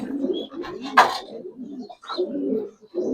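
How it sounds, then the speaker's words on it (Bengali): Large pigeons at a fancy pigeon farm coo close by in soft, low, throaty bursts, with one brief sharper flutter or call in between; no talking is heard. "খুবই সুন্দর কবুতর।"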